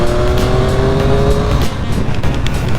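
A 2020 Triumph Street Triple RS with an inline engine pulls hard on an open stretch during a rainy-day ride, its loud, continuous engine roar climbing in pitch and then settling, with no talking over it.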